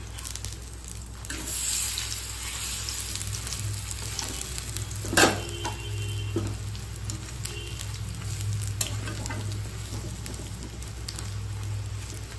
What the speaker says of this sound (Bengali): একদিকটা বোধহয় ভাজা হয়ে গেছে এবার উল্টে দিচ্ছি